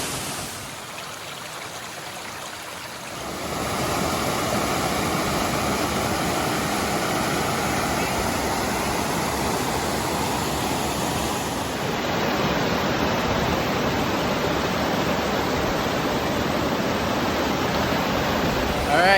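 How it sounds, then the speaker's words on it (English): Six Finger Falls, a waterfall in the snowy Ozarks, roars as steady broadband rushing water, swelling in after a few quieter seconds and staying loud and continuous throughout, with no voices. "this is our last waterfall. This is Six Finger Falls"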